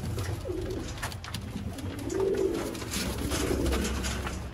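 Sialkoti pigeons coo in low, rolling murmurs, two or three swelling phrases over a steady background hum, nearby and moderately loud.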